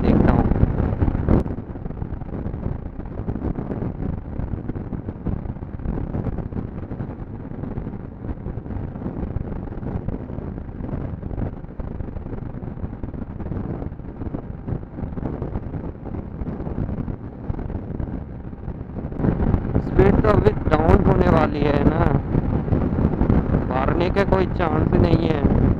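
A TVS Ntorq Race Edition BS6 scooter held at full throttle during a top-speed run, its engine drone buried under steady, loud wind buffeting on the microphone, with a brief swell of wind and engine noise near the end.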